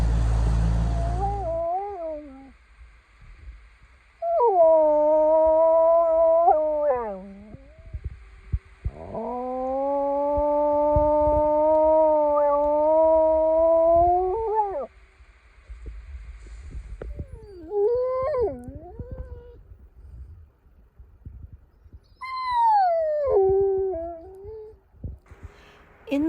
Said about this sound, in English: we started hearing a whole pack of wolves just howling at each other